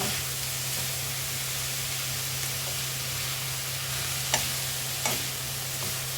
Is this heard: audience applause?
no